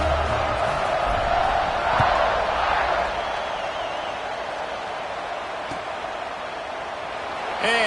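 A stadium crowd roars steadily in a Madden football video game as the kickoff approaches, a broad continuous wash of cheering that swells slightly near the start, with a commentator's voice over it.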